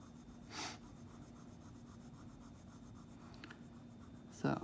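A pencil shades on paper with medium pressure, a faint, steady scratchy rubbing that continues quietly throughout with a few slightly louder strokes.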